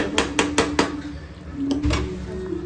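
Metal pots and utensils clatter as cooked mutton is moved into a pressure cooker, with four sharp bangs in quick succession, a pause, then a couple more knocks and scraping close by in a home kitchen.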